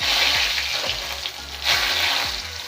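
A bay leaf dropped into hot oil with cumin seeds on a raised gas flame, setting off a steady, close and loud sizzle, with a few low knocks and thuds from the pan underneath.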